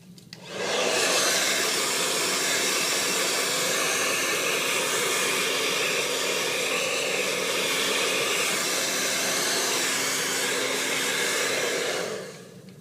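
A handheld hair blow dryer runs continuously at close range, a loud steady airy whoosh that switches on and off, with no talking.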